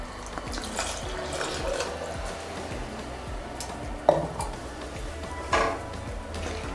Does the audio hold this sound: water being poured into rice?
yes